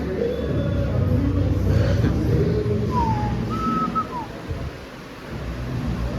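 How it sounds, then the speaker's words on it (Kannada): Steady heavy rain roars throughout as a dense wash of noise, with a few faint whistle-like tones briefly rising above it. "ಫುಲ್ ಮಳೆ ಗೈಸ್"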